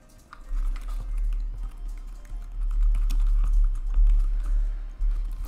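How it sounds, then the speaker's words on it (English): Computer keyboard typing while entering content into a WordPress Flipbox form, a steady run of close, light key taps without speech. "Let's type some content."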